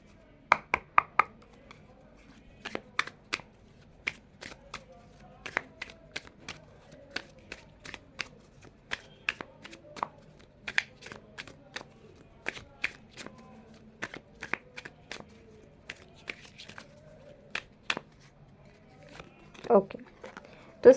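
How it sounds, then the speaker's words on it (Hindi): Tarot cards being shuffled by hand, heard as a long series of crisp, papery riffles and taps in uneven bursts, close and fairly quiet, with a few soft handling noises between them. "सो इसके बाद मैं देख लेती हूँ टैरो से क्या आता है"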